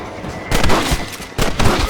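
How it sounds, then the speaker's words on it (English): Gunfire in the Red Dead Redemption video game, two loud bursts of rapid overlapping shots separated by a short pause, close and harsh with no speech. "Nice shooting, boy."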